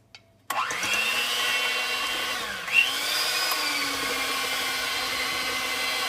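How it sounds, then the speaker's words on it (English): Electric hand mixer beating donut batter, switched on abruptly to a loud, steady whirring motor hum whose pitch dips and recovers once as the beaters work through the mix, with no talk. "We will mix these together by using a hand mixer."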